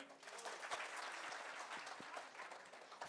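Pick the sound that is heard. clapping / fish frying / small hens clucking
clapping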